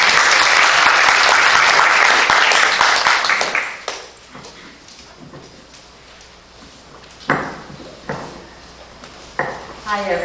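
Neighborhood council board meeting audience applauding, a loud burst of clapping that fades after a few seconds, followed by scattered clinks, knocks and shuffles in the room.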